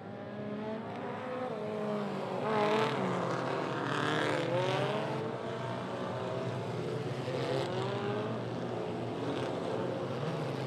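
Mini stock race cars bunching up into turn four on an oval track, a pack of engines droning and rising and falling in pitch as they pass, loud and continuous with a blended roar of several cars.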